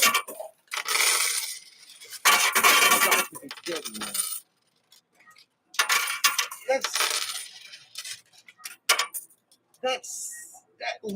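Coins clatter and cascade repeatedly from a coin pusher arcade machine during a cash and gold prize livestream, loud metallic bursts of jingling separated by brief pauses, with a voice occasionally audible.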